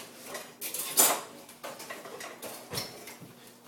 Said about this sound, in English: I'm going to grab a whisk